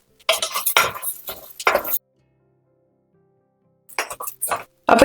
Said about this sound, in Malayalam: അപ്പൊ ചെറുപയറും അതുപോലെ തന്നെ അപ്പൊ അരിയും കുറച്ച് വറുത്ത് വന്നിട്ടുണ്ട് നെയ്യില്.